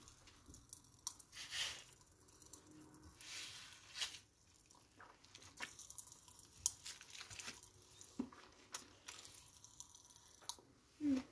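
Frizzy Pazzy popping candy crackling inside a mouth while being chewed, heard up close as faint, irregular pops, wet squishes and crunches spread over several seconds, with no talking.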